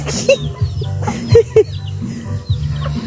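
Pet chickens cluck and call close by during feeding on a farm where ducks are also kept, with several short bursts over a low steady background.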